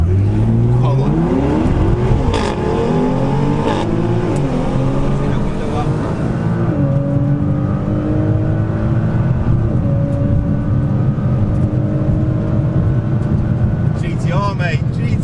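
A 750bhp Nissan GTR drag races a BMW M5, its engine roaring loudly up through the revs with rising pitch, dropping at each gear change, heard close and continuous throughout.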